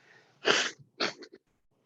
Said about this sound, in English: Didn't mean to sneeze into your ear.